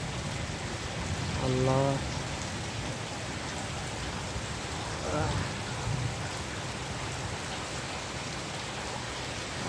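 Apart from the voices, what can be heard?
heavy rain falling at night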